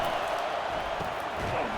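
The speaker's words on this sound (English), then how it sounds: "listen to the roar of this crowd" A stadium crowd roars at a college football playoff game between Middle Tennessee and Alabama, a dense, steady wall of cheering noise that holds throughout with no individual voices standing out.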